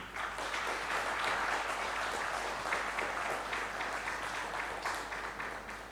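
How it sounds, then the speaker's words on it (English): An audience at a spelling bee national final gives a long, sustained round of applause for the top 16 finalists, a soft, continuous mass of clapping that tapers slightly toward the end. "Let's have a long round of applause for the top 16."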